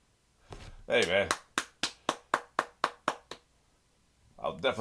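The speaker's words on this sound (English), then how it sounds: "I'll definitely clap to that." Hands clap eight or nine times in a steady, crisp rhythm close by, with short bursts of talk or laughter just before and after.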